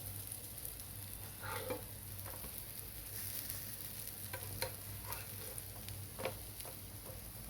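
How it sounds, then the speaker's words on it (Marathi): Eggplant slices frying in a pan give a soft, steady sizzle with occasional light ticks and pops, fairly quiet and close, with no talking. "परत आपल्याला तीन मिनटं आपल्याला फ्राय करून घ्यायचं आहे"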